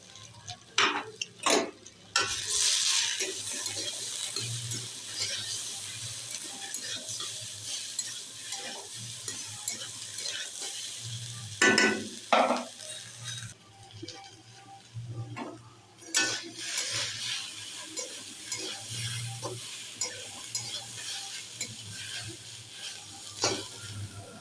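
Malabar spinach fries and is stirred with turmeric, chilli powder and salt in a pan, giving a soft continuous sizzle broken by scraping and clattering strokes of a spatula against the metal.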